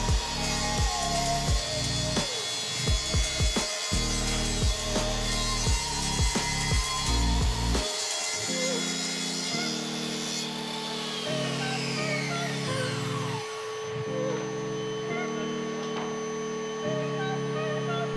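A saw cutting the last row of glued parquet flooring to width, a loud whining power-tool cut with shifting pitch. Several short pauses and bursts punctuate the first half, then one long sustained cut runs to the end.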